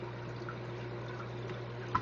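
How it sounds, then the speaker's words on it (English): Water flushing through a diatom aquarium filter being backflushed, a steady low gurgling wash with faint drips, continuous throughout with one small splash near the end. "I backflush the filter to clean it and set it up on the next tank without ever having to take it apart."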